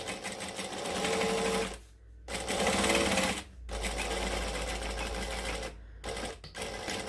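A sewing machine back stitching a seam, running in steady close bursts of rapid needle chatter broken by short pauses, with no talk over it.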